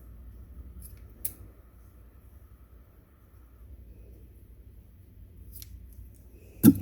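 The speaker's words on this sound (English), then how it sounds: "I'm going to cut these pieces off," Scissors snip pieces off fabric for a pumpkin wall hanger, a few isolated sharp cuts spaced seconds apart over a quiet low background hum, close by.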